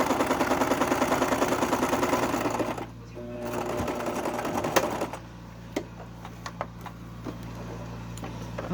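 A sewing machine stitches lace onto a cotton quilt block, running in a steady loud continuous whir for about three seconds before dropping to a slower, quieter hum with scattered clicks.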